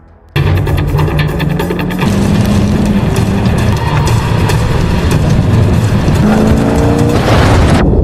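Two cars chase and fire on fleeing people in a film action scene, a loud continuous roar of engines with tire noise and rumbling motion, rising in intensity toward the end, no talk.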